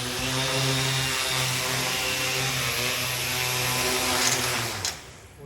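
A 3D-printed DJI Inspire 1 replica drone with 5010 750kv brushless motors on a 3S LiPo hovers close by, a loud, steady buzzing whine with slowly wavering pitch that drops off sharply near the end as the motors cut back.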